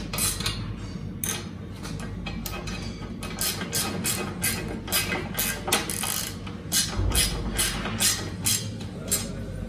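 Repeated ratchet clicks from tightening the rear rack bolts on a Honda CRF1100L Africa Twin, in quick bursts of strokes with metallic clatter, close and fairly loud, with no talking.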